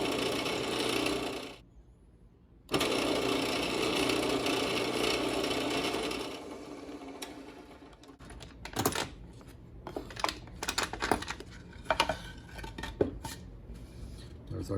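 A 3/8 inch brad point bit drills into a potter's wheel bat: a steady, loud drilling whine for about six seconds with a short break, then quieter clattering and clinking of handling.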